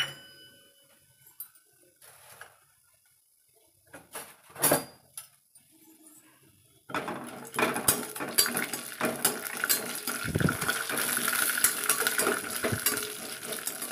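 Fresh coconut dropped into hot ghee and stirred: a few quiet utensil clinks and scrapes, then a sudden strong sizzle that continues with crackles and stirring noises.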